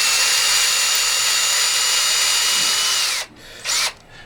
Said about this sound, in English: I take my drill bit and I insert it in my drill, put the drill bit into the hole in my steel jig